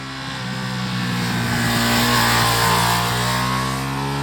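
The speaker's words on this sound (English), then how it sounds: "It absolutely howls its way to the red line, which is always good to hear." A 2022 Ducati Streetfighter V2 motorcycle engine revs up and howls toward the red line, loud and close, rising steadily then holding high.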